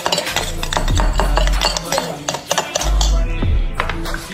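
A spoon stirs and clinks against a dish in a home kitchen, with scraping strokes and light metallic taps under loud background music and a voice.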